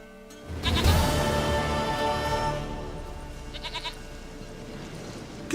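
A goat in The Witcher 3 gives one long, wavering bleat up close. The call holds steady for several seconds and then trails off into a quieter, shakier tail.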